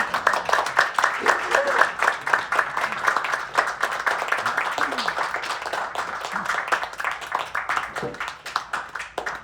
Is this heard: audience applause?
yes